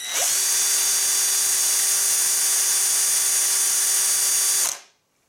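An AEG BS14 G3 cordless drill spins a 6 mm bit at full speed with a steady high-pitched whine for several seconds, then stops and winds down abruptly.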